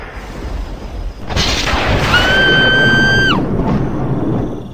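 A loud, deep rumbling crash swells and rolls for a couple of seconds, heavy and close, before fading back into a low background.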